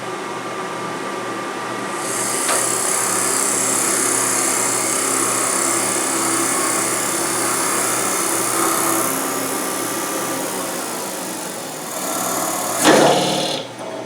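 A drill drives a 1 1/4 inch Forstner bit into a wooden workpiece at a woodturning club demonstration, a steady high-pitched whine with cutting noise running for about ten seconds before a brief clatter near the end.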